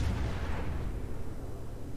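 A heavy naval shell impact rolls out as a deep booming rumble that fades over a couple of seconds, loud and alone, from a warship battle in a video game, with shells coming from the battleship Bayern.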